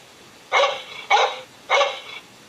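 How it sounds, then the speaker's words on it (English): A dog barks three times in quick succession, loud and close, with short even gaps between the sharp barks and no other sounds around them. "Is it the dog?"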